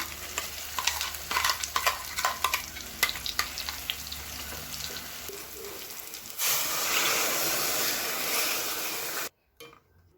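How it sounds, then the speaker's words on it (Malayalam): Ground roasted spice paste for a Kerala fish curry added to ginger, garlic and shallots frying in a pan: stirring scrapes and clinks over oil, then a louder steady sizzle that cuts off abruptly near the end. "ഇഞ്ചി വെളുത്തുള്ളിയും ചെറിയ ഉള്ളിയൊക്കെ ഒന്ന് മൂത്ത് റെഡിയായി വന്നിട്ടുണ്ട് ഇനി നമ്മൾ അരച്ച് വെച്ച കൂട്ട് ഇതിലേക്ക് ചേർത്ത് ചേർത്ത് കൊടുക്കണേ"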